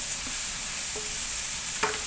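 Chopped ginger, garlic and green chilli frying in a pan for street-style Chinese fried rice, a steady close hiss of sizzling oil with a few soft stirring scrapes and no talking.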